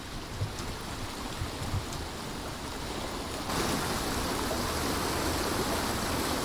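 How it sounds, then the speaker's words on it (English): A waterfall in the video game Bramble rushes as a steady broadband roar of falling water, moderately loud and alone, swelling fuller and closer halfway through. "Waterfall?"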